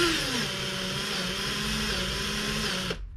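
A Makita cordless drill runs a grease gun attachment at full throttle, giving a close, loud, steady motor whine that holds its pitch for about three seconds and then cuts off abruptly.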